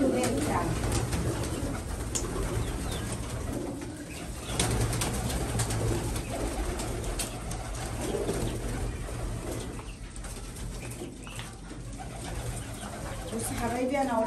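Domestic pigeons coo softly in their coop, with low repeated cooing and occasional wing flutters over a steady background noise, while a person talks nearby.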